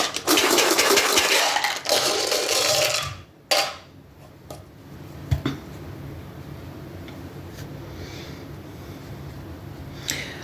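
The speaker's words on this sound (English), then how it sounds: "let's get these dice rolling and see what comes out." Dice rattled and rolled, a bright clattering burst for about three seconds, then a few sharp clicks and taps as they settle, with quiet between.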